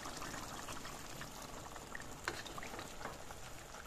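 Water is poured into a pot of simmering chicken and potato curry, a soft, steady gurgling and splashing over faint bubbling, with one small clink partway through.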